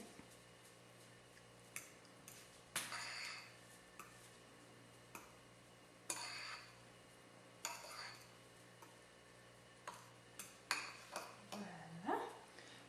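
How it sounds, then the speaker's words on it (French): A fork stirring chia seeds soaking in liquid in a bowl, with scattered clinks and scrapes against the dish over a quiet background, some louder taps and a short swirling scrape near the end. "on va prendre une fourchette, puis on va juste le brasser comme il faut pour s'assurer que chaque graine de chia a été bien imbibée de liquide"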